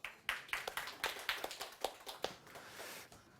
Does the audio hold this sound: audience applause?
yes